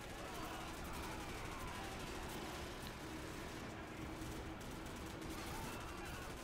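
Constant gunfire fills a Call of Duty 4: Modern Warfare battle, a dense wash of rapid shots and explosions that runs without a break, with a faint voice beneath it.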